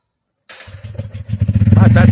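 A motorcycle engine starts with a few uneven sputters, then settles into a loud, close, chugging idle that grows steadier, with a voice over part of it.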